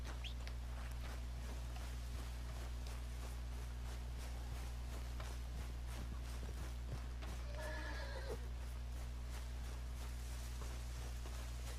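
A horse in the Red Dead Redemption 2 video game clip-clops at a walk and gives one whinny partway through. Steady game ambience and low hum run underneath, and the hoof sounds are faint.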